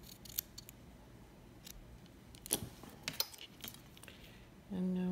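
Small scissors snip cotton wick for a Triple RTA vape build, a few faint sharp clicks and metallic snips scattered over a quiet background, followed by a brief tonal hum at the end.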